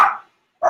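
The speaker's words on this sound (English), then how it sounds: "So they bark when they hear anybody get here." Dogs barking at someone arriving: two short, loud bark bursts close by, split by a brief silence.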